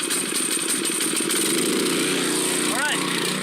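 A small gasoline engine on a machine running on choke, a steady loud buzzing drone close by that holds for the whole stretch, with some clatter on top.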